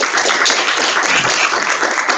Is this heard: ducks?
no